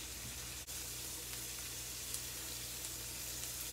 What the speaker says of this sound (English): what we're doing is just sauteing it